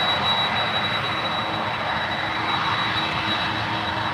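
Boeing 767 airliner jet engines at San Francisco International Airport, a loud continuous roar with a steady high whine running through it, no speech.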